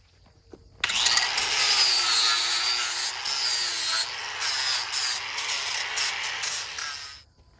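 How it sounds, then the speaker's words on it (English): A loud, continuous abrasive whirring of an angle grinder with a sanding disc grinding against a chainsaw-carved wooden pumpkin, starting abruptly and running steadily for several seconds before stopping. "it's a grinder with a sanding pad"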